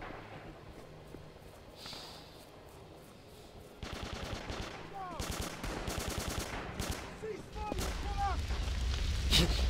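Bursts of rapid video-game gunfire in a Wild West shooter, sharp repeated shots clustering loudly from about four seconds on, with crackling volleys and ricochet-like chirps amid low rumble.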